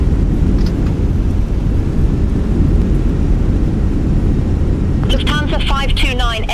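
A Fenix A320 in the MSFS 2024 flight simulator roars on landing with reverse thrust engaged, a loud, steady, broad rumble that dominates throughout, with a brief voice coming in near the end.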